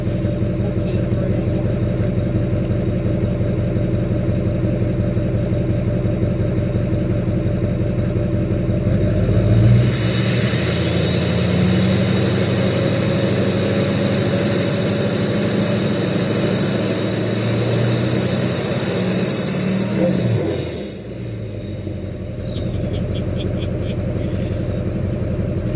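A 2006 Duramax LLY diesel engine with an MBRP exhaust idles with a deep, steady drone while still a little cold, then revs up in one long swelling rise and drops back to idle.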